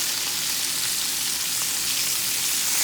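Flamin' Funyuns-coated pork chops fry in a pan, a dense, even, crackling sizzle that holds steady and close throughout the short moment as they are flipped.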